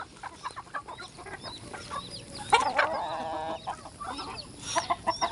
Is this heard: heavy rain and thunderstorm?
no